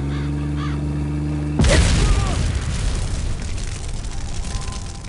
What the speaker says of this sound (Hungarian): Autóval nagyon virgonckodni nem érdemes amúgy, mert pár lövéstől felrobban